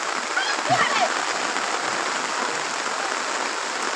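Steady rain falls in a broad, even hiss over farmland where farmers and farm women labour in the downpour, with a voice speaking briefly near the start.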